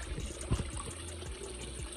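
Large blue catfish thrashing in a backyard pool throws up water in close splashes, with one sharp burst among lighter sloshing and trickling.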